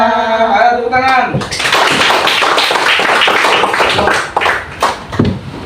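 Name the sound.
class clapping hands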